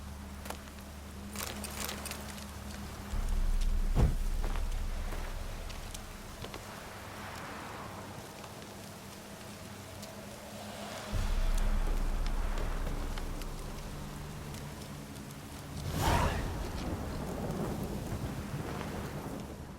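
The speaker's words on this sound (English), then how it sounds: "The storm, damn it." Storm in the video game The Witcher 3: Hearts of Stone, with steady rain hiss and several deep rolling thunder rumbles swelling and fading over the scene, no talking.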